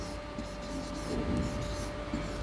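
Chalk scratches across a classroom board as a sentence is written out in Hindi. The strokes are soft, steady and continuous, with faint scraping over a constant low hum.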